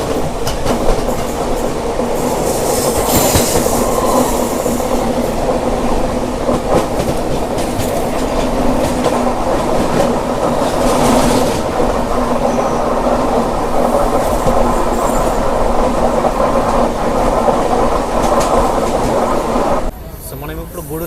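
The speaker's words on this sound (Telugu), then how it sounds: "సో గూడూరుకి మన ట్రైన్ వచ్చేసి ప్లాట్ఫామ్ 4కి అయితే వచ్చింది" The Narayanadri SF Express rolls into Gudur station with a loud, continuous rumble and clickety-clack of wheels on rail, wagons rattling close by, before the noise drops off abruptly at the end.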